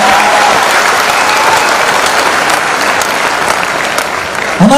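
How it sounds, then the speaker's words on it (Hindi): A seminar audience at a business meeting gives loud, sustained applause, a dense wash of many hands clapping at once that holds steady for several seconds. "ताली जोरदार वाली बजा लीजिए"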